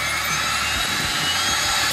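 The engine of a SubSonex small private jet runs with a steady, close whirring roar and a faint high whine, holding an even level with no talking.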